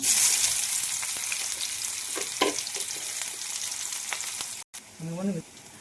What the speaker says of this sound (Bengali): তেলটা গরম হয়ে এসেছে, তাই কেটে রাখা পেঁয়াজ এবং লঙ্কা কুচিগুলো গরম তেলের মধ্যে দিয়ে দিলাম।